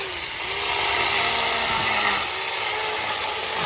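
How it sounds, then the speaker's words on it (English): A small chainsaw buzzes loudly and continuously with a high, gritty whine as it grinds through ice, the pitch dipping slightly under load. "the mini chainsaw is cutting through the ice"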